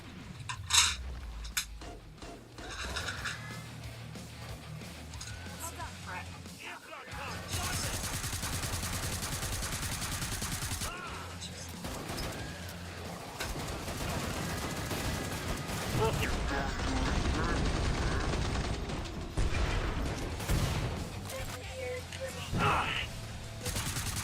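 Gunfire in the zombie shooter Killing Floor 2, with bursts of shots and sustained rattling fire mixed with chaotic game noise over a long stretch, loud and dense in places.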